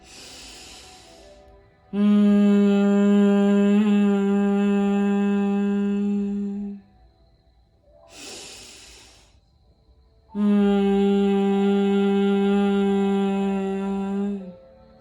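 A person hums a steady, low buzzing drone imitating a bee, two long sustained exhales of several seconds each, separated by audible breaths in.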